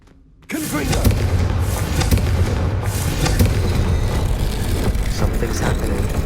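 Confringo fire spell blast in the Hogwarts Legacy game, a sudden loud burst after a brief quiet, followed by a sustained rumbling, crackling roar of fiery impacts with several sharper pops throughout.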